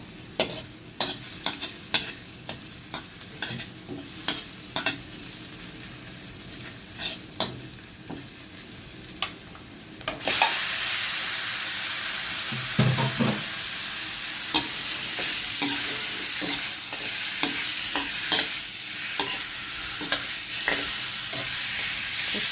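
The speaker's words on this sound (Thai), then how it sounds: "ขูดโคตรกระทะเลยมันติดกระทะ" A utensil scrapes and clacks against a pan of stuck food frying with garlic and pepper in irregular strokes, first quietly, then over a loud continuous sizzle of frying.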